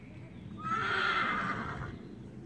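A horse at a horsemanship clinic gives a loud, clear neigh that rises and falls for about a second and a half, close by, with quiet ambient sound before and after.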